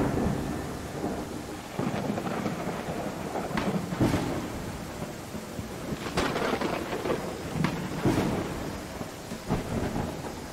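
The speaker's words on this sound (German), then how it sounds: "Ah, okay, wir haben gerade einen Sturm." Thunderstorm in the video game Land of the Vikings: steady rain hiss with several rolling thunder cracks and rumbles spread across, continuous and fairly loud, no voices.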